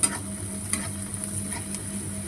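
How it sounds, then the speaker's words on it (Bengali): Crushed green chili and garlic sizzle steadily in hot oil for drumstick-leaf greens, a constant fry hiss with a couple of sharp spatter pops near the start and a low hum underneath. "এটাকে একটু ভাজবো"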